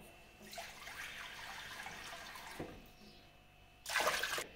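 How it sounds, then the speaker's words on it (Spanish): Water poured into a cooking pot holding bones for a wild fennel stew broth, a close splashing, gurgling stream that pauses briefly, then a second, louder burst near the end. "entonces le agregamos el agua. Otra poquita más."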